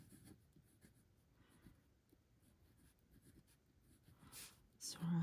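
A Zebra Sarasa 0.3 gel pen writing tiny letters on paper, giving faint, quick, close scratchy strokes in an irregular rhythm, with soft whispered talk and a louder handling noise at the end.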